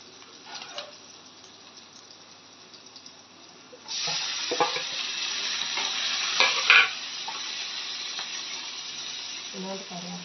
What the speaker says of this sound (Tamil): அதோட தக்காளியும் போட்டு சேர்த்துட்டோம்னா தக்காளியும் வதங்கிடும்.